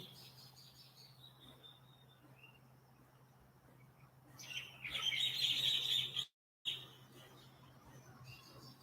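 Faint bird chirps and tweets sound in a quiet outdoor setting, swelling into a brighter cluster of chirping near the end over a low steady hum.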